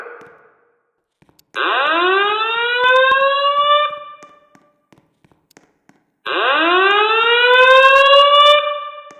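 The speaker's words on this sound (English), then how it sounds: "Attention. Attention. Attention. This is a fire alarm." A building fire alarm sounds two loud rising siren whoops, each lasting about two and a half seconds with a pause between them.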